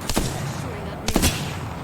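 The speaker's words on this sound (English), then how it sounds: "Shooting at me." Two short bursts of gunfire from the video game Apex Legends, loud and sharp, come about a second apart over a steady background of game sound.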